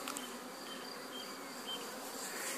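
A swarm of honeybees being caught into a freshly painted hive gives off a steady, dense buzz, faint and continuous, with no voices heard.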